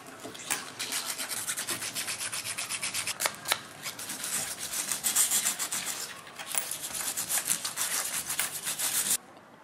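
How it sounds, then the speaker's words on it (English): Copper coins being polished by hand, a steady close scratchy rubbing that runs almost without a break, briefly pausing and stopping near the end, with no voices. "And we polish the coins."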